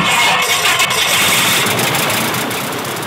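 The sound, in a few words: Piper Super Cub airplane engine starting and idling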